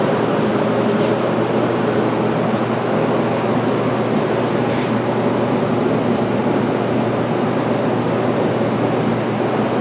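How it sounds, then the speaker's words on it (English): Spray gun laying base coat on a 1955 Buick Century steering column, a steady close hiss of airflow running without break. "We'll put the base coat on next."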